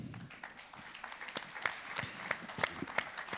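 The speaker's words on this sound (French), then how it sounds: "On peut l'applaudir." Scattered applause from a small audience at a foundation presentation event, with sparse uneven claps standing out at moderate distance rather than a dense ovation.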